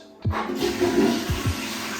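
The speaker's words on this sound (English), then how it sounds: "I'm now going to flush the toilet" A bathroom toilet flushes with a sudden loud rush of water that swirls steadily for about two seconds, close and alone with no talking.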